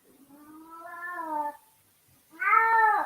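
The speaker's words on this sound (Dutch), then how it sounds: "Hou op, kat." A cat meows twice up close, a drawn-out call followed after a short pause by a louder, higher and more insistent meow, with no other sound around it.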